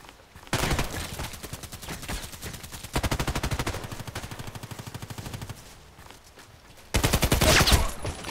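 Sustained automatic gunfire in the online shooter Contract Wars, long loud bursts of rapid shots separated by short lulls, with a final intense volley near the end.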